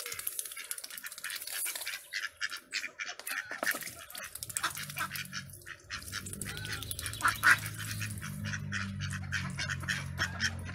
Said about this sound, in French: pour vous montrer les canards. Ils sont en train de se baigner là.